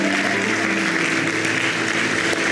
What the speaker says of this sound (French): Nous vous applaudissons.